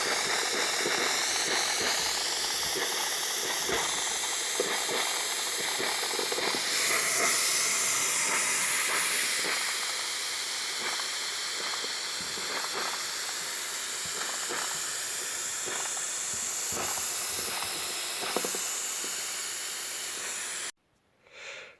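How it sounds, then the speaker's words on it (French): Steam is forced deep into potting soil in seedling crates to sterilise it, making a loud, continuous hiss with rough pulsing bursts for about twenty seconds before it cuts off abruptly. "Il faut compter 20 secondes vraiment à la position pour envoyer la vapeur en profondeur dans la terre"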